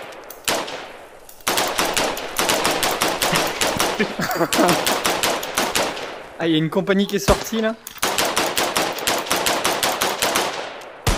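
Rapid, loud bursts of R15 rifle fire in a hunting video game crackle in long automatic volleys with a short break in the middle, while someone talks over the shooting.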